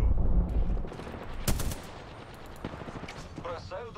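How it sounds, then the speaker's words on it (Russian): Bursts of gunfire in a multiplayer shooter video game, a rattling volley up front, then one loud close crack and a few scattered shots over a low background, with a voice briefly speaking near the end. "Стреляю."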